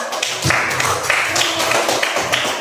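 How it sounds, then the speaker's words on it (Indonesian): Students in a classroom applaud together, producing a loud, dense burst of hand claps that lasts a couple of seconds, close and even in volume. "tepuk tangan dulu"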